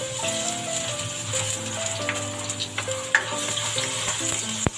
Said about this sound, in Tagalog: ngayon naman po ay magigisa na tayo ng ating bawang